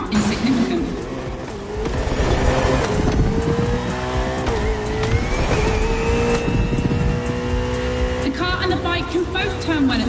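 Racing car engines in The Crew Motorfest video game, an Italian machine of 600 horsepower and an Austrian Stallion of 270 horsepower: a continuous, loud engine roar rising and falling through gears with tire squeal, under steady talking.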